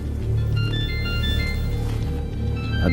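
A telephone rings with a high, repeating electronic ringtone for an incoming call from Adnan. It is moderately loud and plays over a low background music bed.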